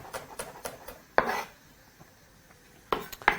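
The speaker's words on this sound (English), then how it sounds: "I'm going to be chopping up one onion that we're going to be using for the stew" A knife chops an onion for a vegetable stew, giving a few sharp, close cutting strikes spaced irregularly, with quieter taps and scrapes on the board between them.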